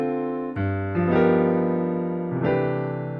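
Sustained piano chords played in sequence, three changes at a steady pace, voice leading moving smoothly from the 2 chord through the 5 chord to a major 7 resolution; close, clear and alone.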